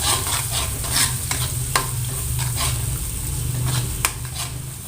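Spice paste for tofu bacem sautés in a pan with a steady, close sizzle, broken by a few sharp scraping strokes from stirring.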